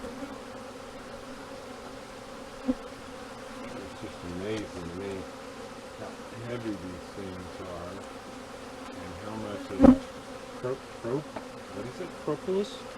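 Honey bees buzz around an open hive during a pre-winter inspection, a steady close drone with a few louder passes and faint background voices.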